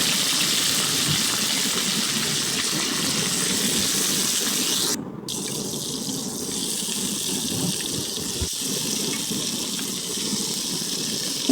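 Potatoes and broad beans tossed into a pan of frying onions set up a steady, close hiss and sizzle that runs unbroken for the whole stretch, with a brief dip partway through, no voices over it.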